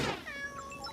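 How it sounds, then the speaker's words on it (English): Kittens in a cartoon let out a brief, high mewing cry, close and clear, with a bright wavering pitch that fades over about a second. "Kittens. Oh, they're not scary or mean. They're fuzzy and have pink noses."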